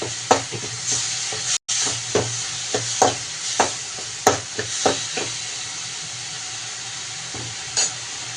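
Ginger garlic paste sautéing with tomatoes in a pan for a drumstick-leaf crab curry, with a close crackling sizzle and a series of sharp spoon scrapes and stirs spaced about half a second apart.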